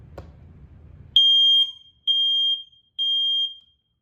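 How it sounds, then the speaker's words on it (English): A household smoke alarm being tested gives three loud, piercing high beeps, each about half a second to a second long with short gaps between them, after a brief low rumble. "we're gonna be testing the fire alarms again"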